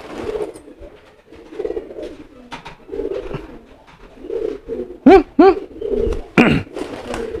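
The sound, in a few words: pigeon cooing loudly during courtship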